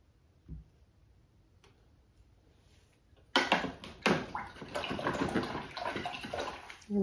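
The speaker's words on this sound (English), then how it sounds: "Rinse all that paint out." Water starts running partway through to rinse acrylic paint out, a close splashing, gurgling stream after a few quiet ticks and a small knock.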